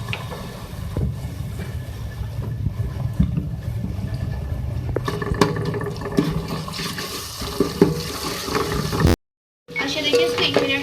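Ginger garlic paste fries with golden onions in a pan, giving a continuous, close sizzling hiss. A person talks over it, and there is a brief silent gap near the end.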